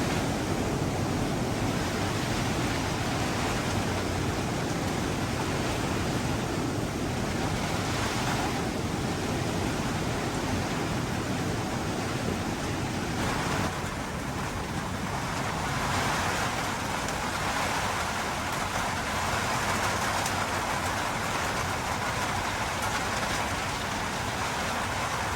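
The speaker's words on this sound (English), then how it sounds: "Now the storm is even worse. It's really bad stuff's hitting the roof of the shelter." Storm rain and wind batter the roof of a trail shelter on the Appalachian Trail, a steady loud broadband roar with surging gusts throughout.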